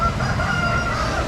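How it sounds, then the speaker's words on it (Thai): A rooster crows in a drawn-out call over a steady background of ambient noise at a market in Khlong Toei, Bangkok, heard from a moderate distance. "มีเสียงไก่ขันเลย"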